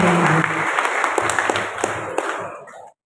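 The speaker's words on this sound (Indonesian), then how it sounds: "kita berikan aplaus kepada Ketua Jemaat PHMG" Applause from a church congregation at the opening of a hydroponics training event, a dense burst of clapping that carries on steadily for about two and a half seconds before fading out quickly.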